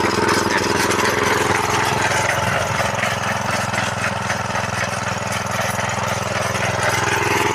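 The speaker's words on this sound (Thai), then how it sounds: "อันนี้ตัดเกียร์หนึ่งให้ดูนะครับเนี่ย" An engine-powered grass cutting machine cuts grass in first gear, its motor droning loud, close and unbroken throughout.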